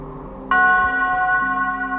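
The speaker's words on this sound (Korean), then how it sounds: "멀리서 울리는 종소리 점점 희미해짐" An old bell rings from a distance at night, a single struck tone that blooms suddenly and then hangs in a long, steady hum, slowly thinning as it fades.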